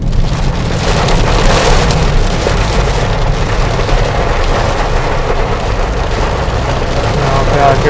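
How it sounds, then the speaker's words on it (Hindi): Heavy rain pouring down in a forest in the Mukundra hills near Rawatbhata, Kota, a steady, dense wash of drops that stays constant and loud throughout, with no break or change. "तो बूंदाबांदी होने चालू हो गई है, जंगल में बारिश, और बारिश में चलते हुए भाई लोगों को थोड़ा भीग जाएंगे अभी आगे, और बारिश तेज है।"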